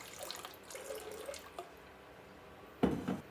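Water poured into a blender jar for an anti-inflammatory chili sauce, a soft splashing trickle that runs for about two seconds and ends in a brief louder splash near the end, with no talking.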